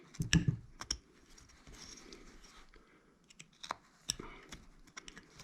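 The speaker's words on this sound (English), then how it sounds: "Come back here with your paring cut, and we're going to basically just remove, hopefully, remove that chunk of wood." Paring cuts with a whittling knife shaving a chunk of wood while carving a face, heard as a few quiet, sharp scraping clicks spread out, with a bigger burst near the start and another near the end.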